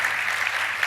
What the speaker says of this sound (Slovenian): prosim en aplavz za požrtvovalnost